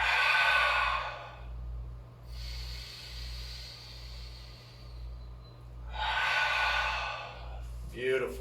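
Slow, deep breaths taken during an ankle workout: a long, airy exhale, then a drawn-out inhale and another full exhale, close and fairly soft, with no talking.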